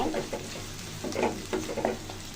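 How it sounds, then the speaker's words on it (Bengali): Onions frying in a pan, cooked toward golden brown for a chicken gizzard and liver bhuna, with a steady close sizzle and repeated scraping stirs of a spatula, no voices. "পেঁয়াজটা বেরেস্তার কালার করে ভেজে নিব।"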